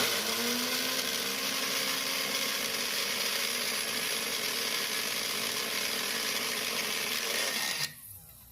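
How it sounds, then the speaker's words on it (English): Blender grinding dried ginger and lemon into powder, a loud continuous whirring roar close by that holds steady for nearly eight seconds before cutting off abruptly. "And then I just let it grind it up."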